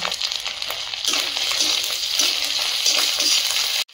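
Chopped onion and slit green chillies fry in hot oil in a home kitchen, a steady close sizzle that jumps louder about a second in and holds there, with faint stirring clicks.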